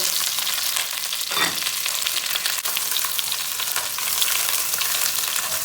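Chicken caramelizing in hot oil in a pan, a loud, steady, close sizzle and crackle throughout, with a brief stirring scrape early on and no voices.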